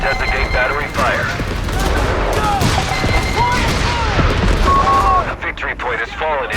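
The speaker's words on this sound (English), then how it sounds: "Traversing fire! Keep firing. Don't stop." Sustained gunfire and artillery in the World War II strategy game Company of Heroes 3, a dense continuous barrage of shots and booms with whistling shells, loud throughout, while game voices call out over the battle.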